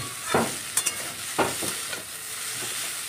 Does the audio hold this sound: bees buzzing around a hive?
no